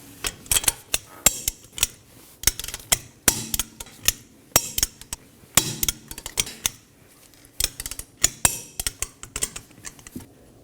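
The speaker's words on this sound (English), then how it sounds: "we're going to torque our 5 fasteners to 100 foot-pounds in an alternating pattern" Sharp metallic clicks come from a torque wrench tightening the five wheel fasteners of a 2014-2023 Ford Transit Connect to 100 foot-pounds. The clicks are loud and close, repeating in quick bursts with short pauses between them.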